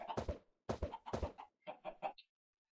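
Chickens in the Minecraft video game clucking in several short bursts, two longer calls followed by a quicker string of three or four, fairly loud and close with silence between them.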